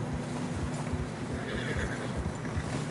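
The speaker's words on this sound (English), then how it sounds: "Horses are getting tired." Horses in the video game Red Dead Redemption 2 snort and whinny with hooves thudding steadily through fresh snow, set against a constant windy rush.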